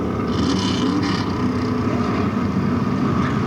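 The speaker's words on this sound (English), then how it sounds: "the clutch has now let go in that car because you can hear Bo revving the engine, but it's not going anywhere" A race car engine at a short-track stock car race drones steadily at high revs, a continuous distant roar without gear changes as the failed clutch leaves it going nowhere.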